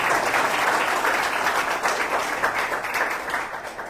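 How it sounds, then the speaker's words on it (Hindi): A congregation at a Sunday evening prayer service applauds to welcome a visiting pastor, a dense, steady wash of many hands clapping together that holds strong throughout and tapers only slightly at the end. "आप पादरी साहब का जोरदार तालियों से स्वागत करें।"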